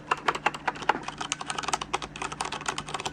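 Fast typing clatters on a Logitech G710+ mechanical gaming keyboard, a quick close run of crisp clicky keystrokes with no voices.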